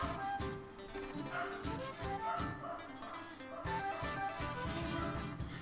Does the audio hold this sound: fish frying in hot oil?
no